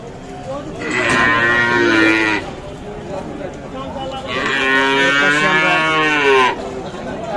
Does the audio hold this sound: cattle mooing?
yes